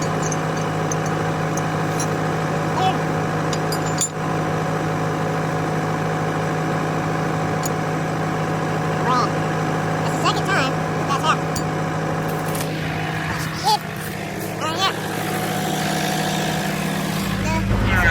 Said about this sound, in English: So, just got the tractor backed in, all squared up, got this down.